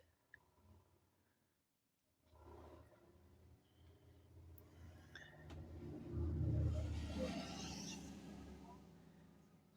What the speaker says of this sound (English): Have the window open and there are motorcycles going by.